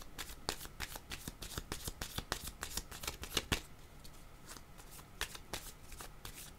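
Cards shuffled by hand for a card reading, a quick close run of crisp riffling flicks that thins out into a few scattered snaps.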